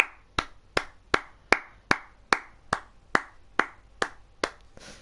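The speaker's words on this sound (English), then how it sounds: "It feels weird clapping when there's no one here." Slow, evenly spaced hand claps from a single person, about a dozen sharp claps roughly every 0.4 seconds, close and clear in an otherwise quiet room with no talking.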